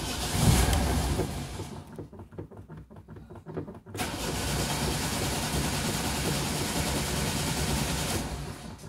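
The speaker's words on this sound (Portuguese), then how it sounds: "Tá enchendo a cuba, por isso tá demorando pegar" A Ford Belina engine with a dry carburetor cranks slowly, a rhythmic starter chug that pauses and then gives way to a steady loud churning.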